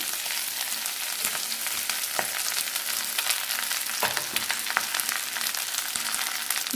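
Drumstick leaves sizzle and crackle steadily in a hot pan for a Kerala thoran, a constant close frying hiss with occasional pops and stirring scrapes, no speech.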